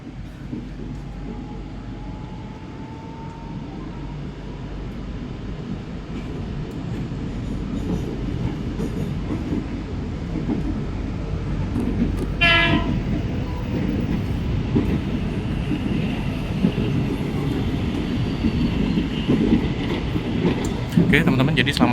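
A KRL Inka electric commuter train runs steadily on the Depok–Jakarta line, heard from inside with a continuous loud rumble and rail noise, a brief metallic squeal midway, and faint background chatter.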